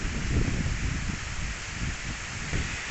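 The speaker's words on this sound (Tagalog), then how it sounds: "Lakas ang hangin dito" Steady, strong wind roaring against the microphone, a continuous broadband rush with gusty swells and no voices.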